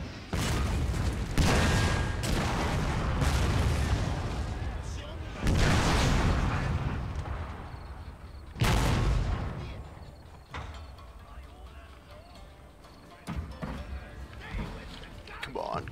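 Artillery guns firing in the video game Total War: Shogun 2 – Fall of the Samurai, with heavy booming volleys at the start, around five seconds and near nine seconds, each trailing into rumble while a voice talks over the battle.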